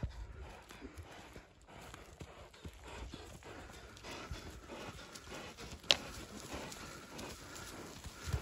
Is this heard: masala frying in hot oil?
no